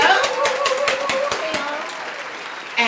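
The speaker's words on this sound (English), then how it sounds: "Clap it up, clap it up." An audience claps for a guest host on a faith talk show, a brief burst of scattered hand claps mixed with voices that fades after about two seconds.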